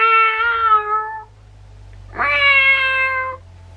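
A cat meows twice in a storybook setting, each cry long and harmonic, the second rising sharply before settling, close and loud over a faint low hum.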